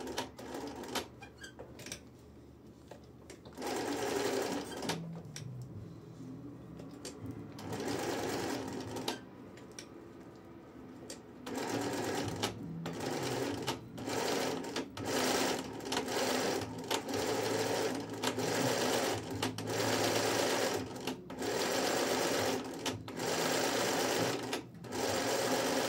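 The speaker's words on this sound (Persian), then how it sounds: "میتونید کارتون رو به همین شکل زیر چرخ خیاطی ببرید و شروع کنید به دوختن" A sewing machine runs a zigzag stitch at width 2.5 and length 7 while sewing a basket lid, its motor whirring loudly and steadily through repeated bursts, with short pauses and clicks in between.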